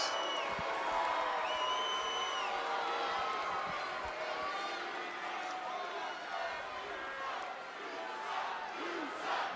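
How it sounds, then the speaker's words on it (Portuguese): A WWE SmackDown arena crowd roars and jeers at Roman Reigns, a loud, sustained wash of voices with rising chant-like tones throughout. "vaias do universo WWE para Roman Reigns"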